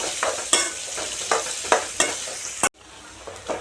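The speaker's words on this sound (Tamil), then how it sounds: "ரெண்டு பெரிய வெங்காயம் அதையும் இதில் சேர்த்திக்கலாம் சேர்த்திட்டு நல்லா வதக்கி விடலாம்" Sliced onions sauté with small dried fish in a pan, crisp sizzling broken by a series of stirring scrapes at an uneven rhythm, close and alone.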